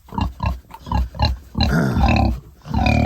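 A farm pig grunts in a quick rhythmic series, then gives a longer, drawn-out moan, close and loud on a farm with calves.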